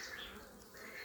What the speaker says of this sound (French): Là quand c'est comme ça, il y a un bel amas d'abeilles là